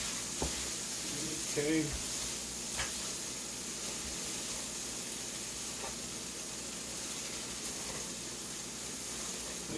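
Meat for breakfast burritos sizzles steadily in a hot pan, a constant close frying hiss with occasional stirring clicks, while someone speaks briefly at the start.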